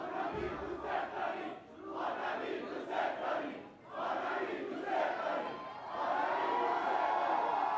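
A crowd of supporters surrounds Ebrahim Raïssi as he votes, many voices shouting and chanting together in rising and falling waves, with the noise swelling toward the end.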